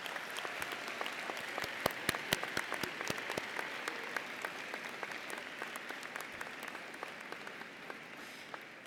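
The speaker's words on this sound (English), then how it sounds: "let's give a big round of applause in appreciation of your friends and family here today" Graduates and guests at a university business school spring commencement applaud in a large hall, sustained crowd clapping with sharp individual claps standing out, gradually easing toward the end.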